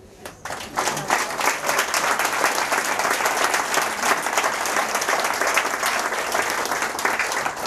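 Sustained applause from an audience at an ecology talk, starting abruptly and holding as a dense, even wash of many clapping hands for several seconds.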